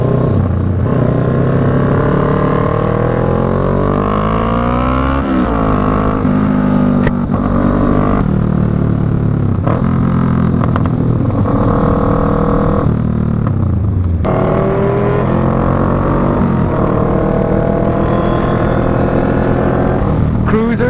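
Motorcycles idling and revving at a Houston meet-up, including a Kawasaki Vulcan S, V-Rod, Z1000, R1 and Honda Interceptor, with loud continuous engine drone and rising and falling revs close by.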